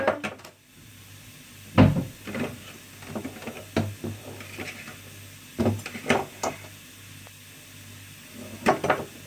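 Wooden cupboard doors and hard kitchen parts knock and clatter as a food processor is lifted out in a home kitchen, a series of sharp irregular bumps and thuds, close and fairly loud, with no speech.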